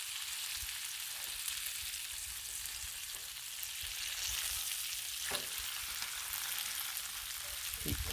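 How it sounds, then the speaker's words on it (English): Bacon frying on a Blackstone griddle at a holiday-weekend breakfast, giving a continuous soft crackling sizzle with faint scraping as food is pushed aside, steady and alone. "Keep sliding things over as the bacon cooks down."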